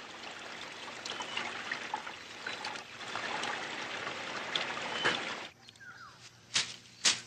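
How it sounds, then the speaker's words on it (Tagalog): Clear water trickling and flowing steadily nearby, with a few sharper splashes and drips toward the end, heard alone without talk. "Dalisay na tubig"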